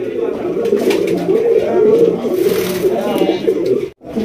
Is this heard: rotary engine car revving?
no